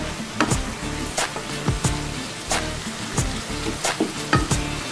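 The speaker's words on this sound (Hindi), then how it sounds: "अब मैं इसको अच्छी तरह से हिलाऊंगा" Cooking oil sizzles steadily in a pan for potato and egg bhujia while a utensil stirs it, scraping in regular strokes about every half second over a constant hiss.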